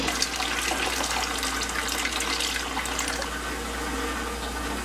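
Tap water runs steadily into a water bath canner being filled for canning leftover tomato juice, a constant close rushing splash with no break.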